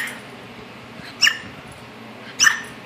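A dog gives two short, sharp barks on command, spaced about a second apart, close and clear against a quiet indoor background.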